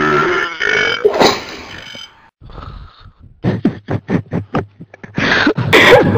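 Loud, drawn-out burps, several in succession, with a choppy series of short bursts in the middle and a final long belch.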